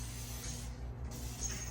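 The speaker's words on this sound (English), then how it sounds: "I'll give it a nice clean spray from up above again" Water misted from a spray bottle over freshly repotted succulents, a steady soft hiss running close and continuous for under two seconds with no talk.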